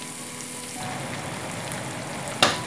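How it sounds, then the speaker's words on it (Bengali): Tomato and capsicum frying in oil for a Bengali-style sardine do-peyaja, a steady close sizzle with a brief louder clatter near the end and no talk. "তো টমেটো এবং ক্যাপসিকামটাও ভেজে নিতে হবে।"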